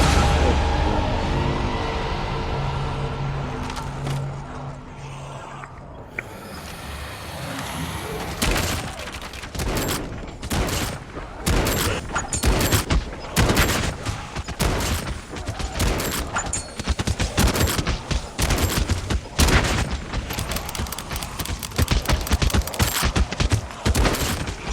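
Rapid rifle gunfire in the zombies mode of the mobile shooter game Call of Duty Mobile, loud sharp shots firing in quick irregular bursts that grow denser through the second half, with little else heard.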